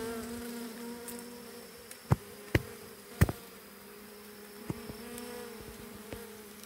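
Bees buzz faintly during a honey harvest, a thin steady drone with a few sharp close knocks and clicks scattered through it, and no voices.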